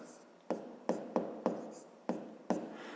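Numbers being written by hand during a fifth-grade math exercise, heard as six sharp, quiet strokes of a pen tapping and scratching on paper in an irregular rhythm, close up.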